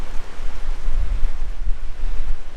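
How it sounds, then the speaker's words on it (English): Loud, blustery wind buffets the microphone with deep rumbling gusts, constant and close, with no voices. "It's very windy, it's blowing a gale"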